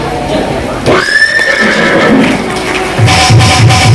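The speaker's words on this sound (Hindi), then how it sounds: "घोड़े के चरणों की आवाज जैसे ही सुनी है, चीख घोड़े की जैसे ही सुनी है" A horse lets out a loud, high whinny, followed by a rhythmic run of hoofbeats, with a voice present during a religious storytelling gathering at a temple.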